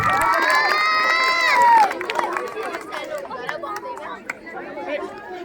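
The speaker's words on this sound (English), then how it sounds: "Please give a round of applause to them." A crowd of students at a school mathematics championship lets out a loud, high shout of cheering, which then settles into excited chatter and murmuring.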